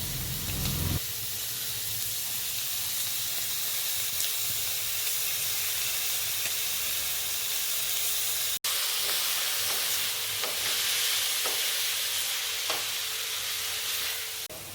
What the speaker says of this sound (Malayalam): നന്നായി ഇളക്കിയ ശേഷം കക്ക നമുക്കതിലേക്ക് ചേർത്ത് നന്നായി ഇളക്കിയെടുക്കാം.